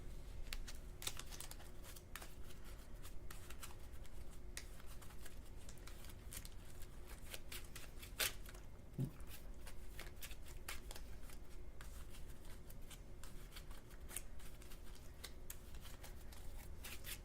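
Pokémon TCG cards being shuffled back into a deck during a tabletop game, giving a steady run of soft riffling card clicks at close range, with no one talking.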